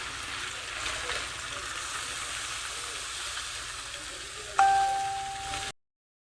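Pabda fish, rubbed with turmeric, salt, cumin and coriander, slid into hot oil in a wok, giving a steady low frying hiss that swells into a louder sizzle near the end before cutting off.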